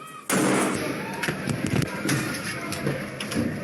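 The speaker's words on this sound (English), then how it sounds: "you'll hear a bang, which I think is the breach happening actually on this door" A sudden loud bang from a door breach in Israeli combat footage opens the clip, followed by scattered thuds and impacts under raised voices.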